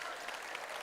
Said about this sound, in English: let's give a round of applause for Mr. Such for being here today